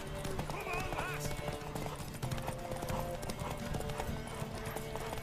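A horse gallops in The Witcher 3 video game, its fast, steady clip-clop of hooves running continuously under someone talking and shouting.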